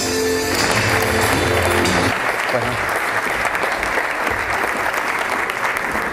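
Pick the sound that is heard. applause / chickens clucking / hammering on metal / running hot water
applause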